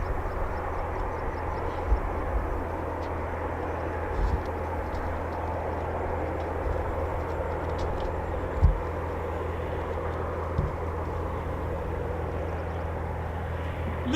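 A Eurofighter Typhoon FGR4 jet at RAF Coningsby gives a steady, broad distant roar that holds evenly throughout, with a few faint knocks and ticks nearby.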